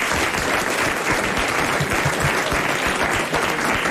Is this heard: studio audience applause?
yes